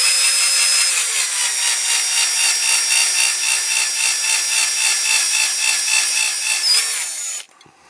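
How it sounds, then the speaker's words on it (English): A drill bit bores steadily into a Dinky Toys Cunningham C-5R die-cast model during restoration, a continuous high whirring grind that runs for several seconds and then stops abruptly. "Keep clearing the end of the drill bit, and it gradually will go in."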